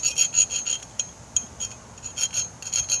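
Hand file scraping the burr off a metal tomahawk head: quick, irregular rasping strokes close by, bright and gritty, with short pauses between bursts and no talking.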